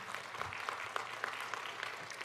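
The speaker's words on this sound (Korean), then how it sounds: "그래도 박수로 한번 맞아주시겠습니까?" A church congregation claps continuously, a dense patter of hands sounding somewhat distant and soft, with no speech over it.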